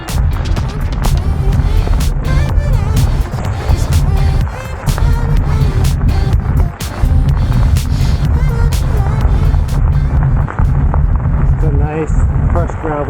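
Bicycle ride on a crushed gravel trail, with steady broadband tyre crunch and rumble, plus wind noise, running continuously and loudly close to the mic.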